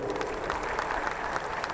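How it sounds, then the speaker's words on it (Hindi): An audience at a Hindu religious discourse gathering applauds, a moderately loud, dense spread of clapping with slight swells that holds through the short moment. "एक बार इनके लिए जोरदार ताली बजाओ।"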